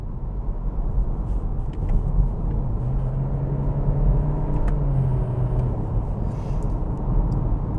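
A 2023 Acura Integra A-Spec with a CVT accelerating onto a highway, heard from inside as a steady low engine drone and road rumble with a rising tone in the middle, loud and continuous.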